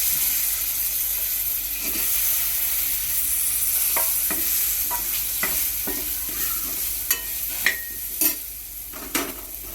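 Potatoes sizzle steadily in a pan with garam masala, red chili powder and Malvani masala while a spoon stirs them, scraping the pan in sharp clicks that grow more frequent toward the end.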